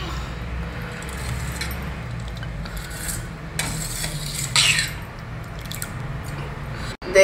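Boiled, cooled milk is stirred into payasam, giving soft, wet scraping and sloshing of a spoon against the pot, close and steady, with a few sharper clinks.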